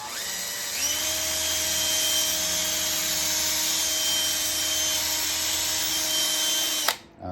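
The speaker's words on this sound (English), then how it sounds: "Now I'm gonna drill the rest." A power drill whirs steadily and loudly at a constant pitch for several seconds, then stops abruptly near the end, drilling into a Land Cruiser 250 front door for a speaker upgrade.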